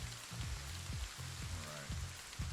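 Steady hiss of storm rain in the zombie survival game Project Zomboid, with regular low thumping footsteps pacing through the downpour.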